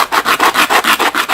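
Rhythmic back-and-forth rasping of a Colt 1903 pocket hammerless pistol part drawn across a sanding block, about eight even strokes, close and loud with no other sound.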